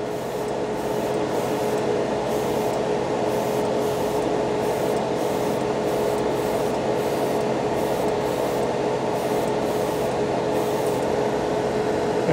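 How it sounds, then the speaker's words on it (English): A steady, hissing spray from an airbrush applying Hobby Mio paint onto a spoon runs continuously with a faint motor hum beneath it, close and constant with no pauses or voices. "What I'll do is I'll spray half the spoon."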